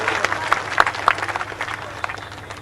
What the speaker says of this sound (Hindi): जोरदार तालियों के साथ पूरे मंच का आप सत्कार करें